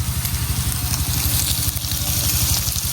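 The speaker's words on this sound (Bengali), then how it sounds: "সয়াবিন গুলা একটু তেলের মধ্যে ভাজা নিচ্ছি" Soybean chunks frying in hot oil give a steady, dense sizzle with a low crackling rumble underneath, continuous and close, with no talking.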